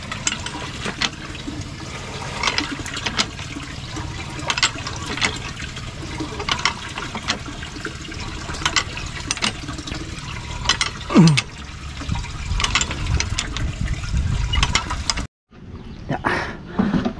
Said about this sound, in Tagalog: Kukuha po tayong tubig sa ilog.